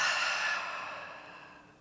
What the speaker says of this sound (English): take one slow, deep breath in through the nose. Open mouth, exhale.